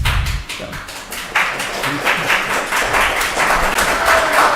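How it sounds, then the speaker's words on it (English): An audience at a Rockdale County planning and development meeting breaks into scattered applause, starting with a few separate claps and building into steady clapping from several people across the room. "Please hold your applause."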